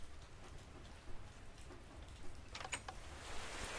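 Steady rain falls in Minecraft, a soft continuous hiss of droplets with a few brighter crackling patter bursts toward the end, quiet and without voices.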